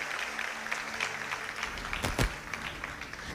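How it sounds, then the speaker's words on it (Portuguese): Scattered clapping from a church congregation, fairly steady and diffuse, with a brief louder burst partway through. "Você pode aplaudir o Senhor pela sua palavra"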